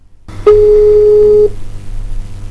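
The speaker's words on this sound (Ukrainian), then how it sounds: "Номер абонента, якому ви телефонуєте, зайнятий або абонент відхилив ваш виклик." A telephone busy signal, a single steady tone lasting about a second, heard at a Ukrainian phone number that is busy or rejecting the call, loud and clear with faint background noise before and after.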